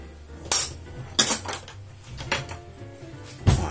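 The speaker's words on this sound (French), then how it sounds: "On va mélanger avec une cuillère." A metal spoon knocks and scrapes against a pot while mixing homemade soap, a few sharp clinks and scrapes, close by with brief pauses between.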